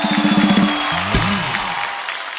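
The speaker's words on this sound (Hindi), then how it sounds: "एक बार जोरदार तालियां गुरु के लिए और हमारी तितली के लिए" A studio audience at a comedy show applauds in a broad, steady wash of clapping and crowd noise, with a sustained musical tone and a brief cheer-like swell partway through.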